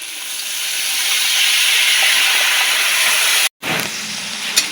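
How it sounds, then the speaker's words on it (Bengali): Turmeric-tinted water and fish curry gravy boil steadily in a pot, a close, continuous hiss and bubble that cuts out abruptly for a moment, then resumes slightly rougher. "ঝোলটা আমার ফুটে গেছে"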